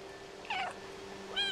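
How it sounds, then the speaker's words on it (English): Cat meowing in the video game Stray: two short, clear meows about a second apart over a quiet humming background, close and moderately loud. "Oh, I thought I couldn't meow."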